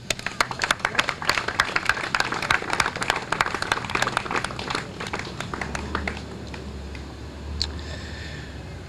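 Applause from a crowd at a park rededication and ribbon-cutting ceremony, a dense burst of clapping that thins out and fades over several seconds, with a low rumble near the end.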